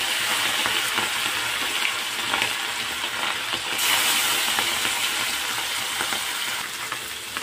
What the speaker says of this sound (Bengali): তো কড়াইয়ের মধ্যে এবার মাছগুলো দিয়ে দেবো।